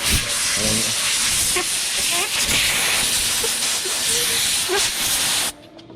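Compressed air blasts under the edge of a handlebar grip on a Harley-Davidson El Diablo. A loud, close, continuous hiss lasts about five seconds and then cuts off abruptly, with faint voices in the background.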